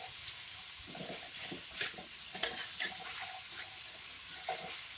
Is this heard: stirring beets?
yes